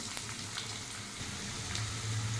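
Curry leaves and aromatics fry in a pressure cooker for goat head curry, giving a soft, even hiss with faint scrapes and a low hum toward the end, quiet and close with no voices.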